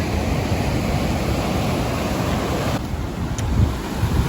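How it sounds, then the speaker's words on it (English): Big ocean waves break steadily along a shoreline at sunset where people are surfing, a loud, continuous roar of surf mixed with gusty wind noise on the microphone. "These waves are pretty big."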